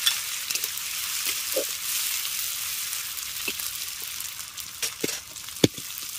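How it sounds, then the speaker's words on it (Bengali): Whole spices tempering as phoron in hot oil for a vegetarian ash gourd dish, a steady close sizzle with soft crackles and a few sharp pops, heard alone without any voice. "এবার ফোড়নটাকে 30 থেকে 40 সেকেন্ড একটু ভেজে নেবো"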